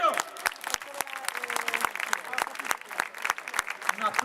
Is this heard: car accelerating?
no